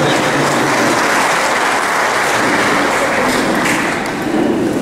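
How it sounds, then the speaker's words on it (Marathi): Audience applause at a farmers' poultry association rally in Koregaon, Satara, a loud rushing wash of many hands clapping that holds steady and then eases briefly near the end. "एकदा टाळ्या आपल्या सर्वांसाठी."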